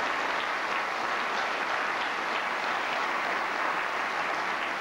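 A studio audience gives dense, steady applause for weatherman Frank Deboosere, a continuous wash of clapping held at even volume throughout without speech.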